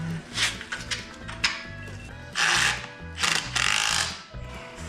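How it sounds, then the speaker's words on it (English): Ratchet wrench clicking in repeated bursts while bolting parts back onto a vehicle, loud and close with a low mechanical hum underneath. "I should be able to bolt those right back up to it"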